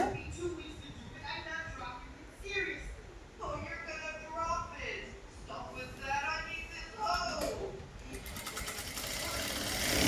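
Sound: sewing machine stitching pant piece

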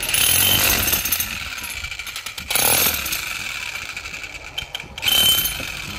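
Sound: Hitachi electric demolition hammer running

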